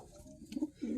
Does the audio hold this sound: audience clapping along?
no